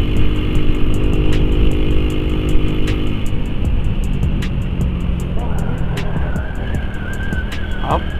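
A 150 cc motorcycle ridden on a road at night, its engine holding a loud, steady drone with a rising whine partway through, close and continuous.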